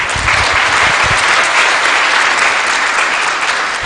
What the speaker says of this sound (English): Please give a very big round of applause for my panel.